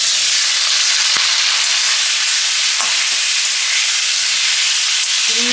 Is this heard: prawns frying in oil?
yes